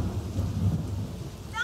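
Steady rain falls with a low rolling rumble of thunder underneath, a continuous hiss swelling slightly before a brief tonal sound cuts in at the end.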